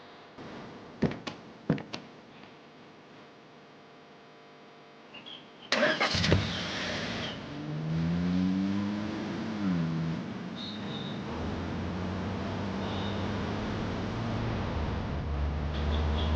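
A car's engine cranks and catches after a few door thumps, settling into a steady idle, then revving and pulling away with the engine note rising and falling, close and clear with no talk.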